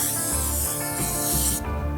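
Olive oil sprayed from a bottle onto chicken wings on a grill, a close, steady hiss lasting nearly two seconds and then cutting off abruptly, heard over a low background hum.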